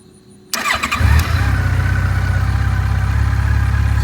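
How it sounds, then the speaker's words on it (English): A motorcycle engine cranks after a moment of quiet outdoors at night, catches with a rough burst and settles into a steady, loud, close idle. "So let's fire up the bike."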